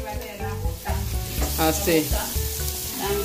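Ginger and onion hit hot oil in a pan, raising a loud, continuous sizzle with stirring scrapes. A person briefly says a word over it.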